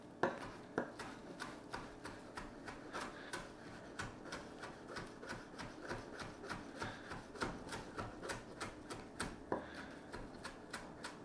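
A knife chops and minces fresh parsley on a cutting board in a soft, evenly spaced run of taps, faint and close, continuing without pause and with no talking over it.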